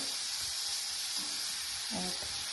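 Minced meat sizzles in a frying pan with oil, a soft, steady hiss with a few faint clinks of stirring, heard alone at low volume.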